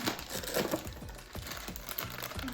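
A black plastic bag rustles and crinkles as it is handled and opened during a surprise unboxing, with close, irregular bursts of crackling against a faint background hum.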